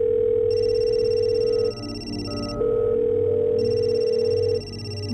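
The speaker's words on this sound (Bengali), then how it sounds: "ফোনটা তো এখানেই বাজছে।" A mobile phone rings nearby in a house, playing a loud electronic ringtone in repeating tonal phrases with short pauses between them; no one speaks.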